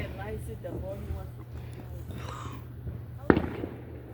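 Backyard fireworks go off with one sharp, loud bang late in the scene. Before it comes a steady low background hum, and people talk over the whole stretch.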